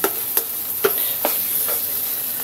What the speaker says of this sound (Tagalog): Pabayaan muna natin maluto yung itlog bago natin haluin.